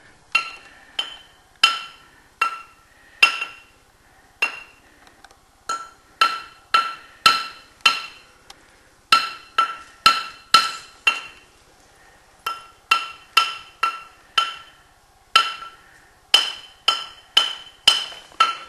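A hammer strikes a stone slab in an ore mine, each blow giving a bright, ringing, bell-like tone; around thirty separate strikes come in an irregular, melodic sequence, close and clear, with no talking.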